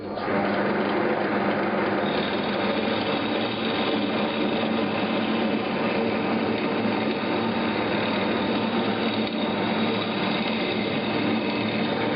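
An Einhell Blue BT 701 drill press runs steadily through a continuous, dense, loud mechanical whir and rattle that stays level for the whole stretch, with no voices.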